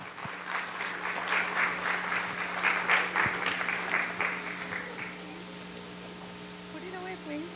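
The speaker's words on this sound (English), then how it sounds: "Let's give them a big round of applause." Audience applause for three children who have just performed at a live music concert, a dense burst of clapping that swells and then fades out over steady mains hum, with faint murmuring afterward.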